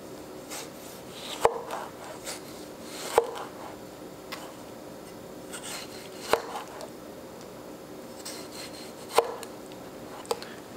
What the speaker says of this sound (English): We're gonna start off by slicing up our tomatoes.